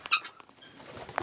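Farm chickens settled in their roost after dark let out a few short, soft calls and coos, with faint shuffling between them, heard up close in otherwise quiet surroundings.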